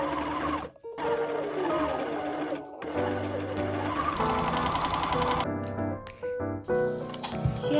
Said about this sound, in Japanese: 裏返してロックミシンをかけます。